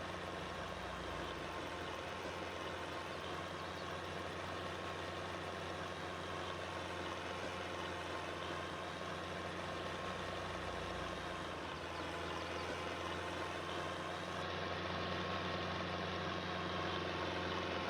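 A John Deere 3020 tractor of about 60 to 70 horsepower idles steadily in Farming Simulator, a constant low, even engine drone that holds for the whole stretch with no talking.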